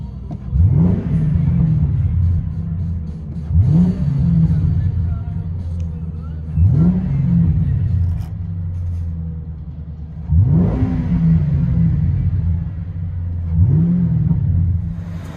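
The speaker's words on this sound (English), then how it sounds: "That's a good sounding Crown Vic. SLP Loudmouths." A 2004 Ford Crown Victoria 4.6L V8 with true dual exhaust and SLP Loudmouths tailpipes with 4-inch tips, revved five times in a row, each rev a quick deep surge that settles back to a loud rumbling idle, close by.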